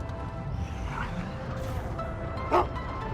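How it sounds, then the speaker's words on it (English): Biscuit the dog gives a single short bark over steady low rumbling background noise during an Elite Dangerous gaming session, with no talking. "Oh, that's the dog."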